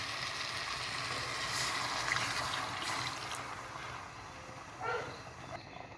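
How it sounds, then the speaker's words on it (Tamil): Water pours into a pot of rice being prepared for Sri Lankan home-style chicken biryani, a quiet, steady splashing trickle with a few brief clinks, close and soft. "அதுக்கு ரெண்டு மடங்காக தண்ணி ஊற்றணும்"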